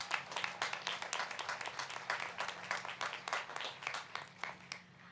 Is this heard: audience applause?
yes